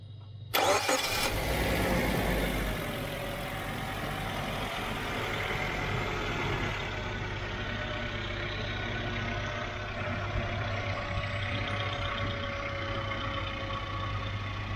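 An M13 double overhead cam engine with variable cam timing cranks and catches almost at once, then settles into a steady, even idle that runs close and loud without any talking.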